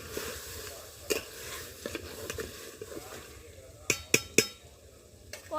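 Chicken being stir-fried in a pan, a low sizzle with scraping stirs and several sharp clinks of a utensil against the pan, clustered near the end.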